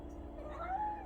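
A cat meows at a feeding spot where several cats gather to eat, a short, fairly faint rising cry over a steady low background hum with no talk.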